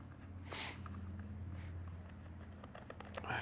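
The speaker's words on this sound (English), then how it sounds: "Excuse the sniffing. The allergies are bad today." A person with allergies sniffs in three short nasal bursts, spaced over a few seconds. The sniffs are fairly quiet against a low background hum.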